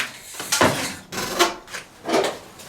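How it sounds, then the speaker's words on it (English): An old wooden door in a mansion creaking and scraping as it is pushed open, in three separate loud drags with short pauses between, close up in a quiet space. "That door probably hasn't been open in such a long time."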